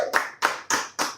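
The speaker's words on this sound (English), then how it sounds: "Please give us a round of applause." Four slow, evenly spaced claps from an audience at a studio talk show taping, each one loud and crisp and ringing slightly before the next.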